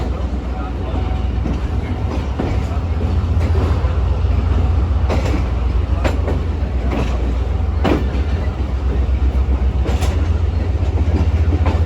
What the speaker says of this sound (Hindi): लोकोमोटिव में कोई प्रॉब्लम ना आ गई हो, बार बार डीएक्सीलेट कर रहा है एक्सीलेशन करके।